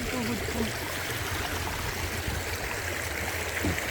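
A strong river current rushes over slippery rocks in a natural stream, a dense, constant wash of water up close with no pauses.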